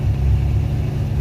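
A car engine idles high with suspected bad gas, giving a steady, loud low rumble with no breaks or revving.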